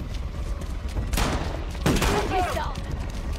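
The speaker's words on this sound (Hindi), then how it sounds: "ओके, हमने एक आरपीजी चला दिया है।" An RPG rocket launcher fired during game play in a forest, with a loud whooshing blast and a burst of crackling, gunfire-like bangs that fade over the following second.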